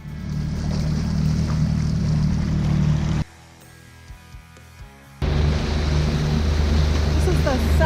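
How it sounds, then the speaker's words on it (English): Small dinghy outboard motoring across Lagoon Inlet in Haida Gwaii, a loud, steady low drone that cuts out abruptly for about two seconds, leaving quiet water sounds, then resumes at full strength. "Now we're taking a dinghy ride."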